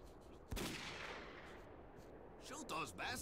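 Gunfire in the video game S.T.A.L.K.E.R.: Call of Pripyat during a fight with mercenaries: one sharp close shot, then a few fainter bursts of rapid fire toward the end over steady game ambience.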